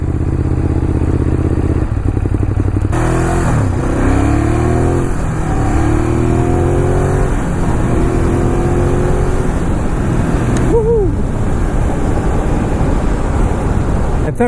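Ducati Monster 821 motorcycle engine on a test ride, a loud steady exhaust drone throughout with rising and falling revs as the bike accelerates and shifts, plus wind rush over the whole ride.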